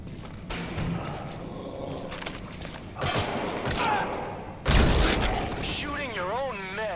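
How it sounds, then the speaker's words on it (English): Bursts of gunfire in Metal Gear Solid V: The Phantom Pain, with heavy shots and a loud impact near the end, mixed with speech, music and a warbling tone. "Shooting your own men."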